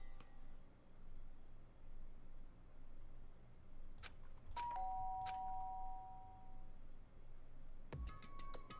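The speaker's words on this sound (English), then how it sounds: "did I hear the doorbell?" A video game doorbell in Danganronpa chimes twice in quick succession around the middle, each a clean two-tone ding-dong over a steady low hum. A brighter chime sounds near the end.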